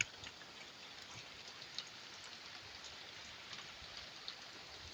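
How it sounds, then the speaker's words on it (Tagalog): Steady rain falls outside through a daylong downpour, a soft, even hiss of drops with occasional faint ticks, distant and quiet throughout with no voices. "maghapon nga po pala guys ngayon ang ulan"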